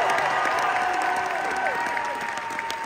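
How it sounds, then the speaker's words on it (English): A live audience at a Jam'n Java music show claps and cheers for the band, steady dense applause with a few whoops, loud and continuous, while a voice talks over the top. "Let's also have a nice round of applause for our local horn players here."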